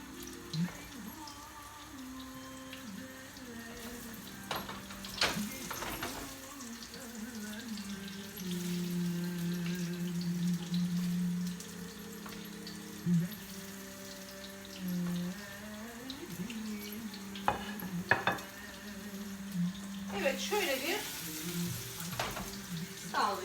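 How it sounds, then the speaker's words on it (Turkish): Içli köfte frying in a wide pan, a soft, continuous crackling sizzle with occasional sharp clinks and stirring noises over a faint steady hum. "Gördüğünüz gibi köftelerimi geniş bir tavamın içerisine aldım. Şimdi kızarmaya başladılar."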